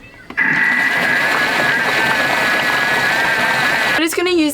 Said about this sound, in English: we're just going to blitz them for a second to make them smaller